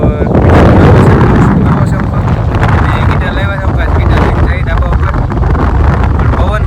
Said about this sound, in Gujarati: હવે પવન છે બહુ અત્યારે